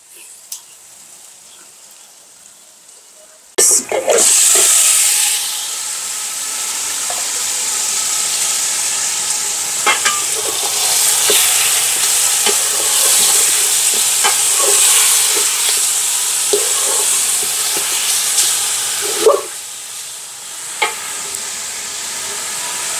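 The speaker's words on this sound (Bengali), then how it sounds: "পেঁয়াজটা একটু ভাজা হোক।" Sliced onions with a few cloves fry in oil in a pan for a biryani, a sudden loud sizzle that settles into steady crackling frying with occasional stirring scrapes.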